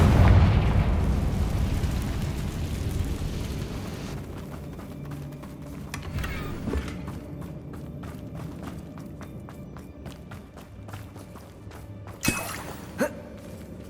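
Confringo fire spell blasting in Hogwarts Legacy, a loud booming burst at the start that decays into crackling debris and scattered footsteps, with a sharp second impact near the end.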